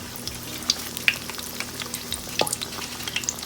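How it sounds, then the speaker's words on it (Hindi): Pakoras in chickpea-flour batter dropped one by one into hot frying oil, with a steady close sizzle and small bursts and pops as each piece hits the oil. "इसके साथ ही हमने यूँ पकोड़े इसमें डालने शुरू कर देने"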